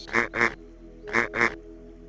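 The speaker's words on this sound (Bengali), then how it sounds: "ডাক ডাক মানে হাঁস" A duck quacks twice in quick pairs, four nasal quacks in all, close and clear against a quiet background.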